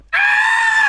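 A human voice imitates a mountain lion's scream with a single loud, shrill, sustained cry, like a woman screaming, lasting about a second with no other sound.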